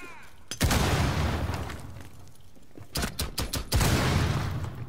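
Bursts of gunfire from the tactical shooter Rainbow Six Siege: one loud blast, a pause, then a quick run of several sharp shots followed by another heavy burst, close and loud with no speech.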